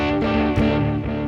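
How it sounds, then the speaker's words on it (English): Electric guitar on an amp modeler with a tape echo effect, a steady, loud, slightly overdriven chord whose repeating echoes blur into a continuous wash, no voices present. "And here's a tape echo."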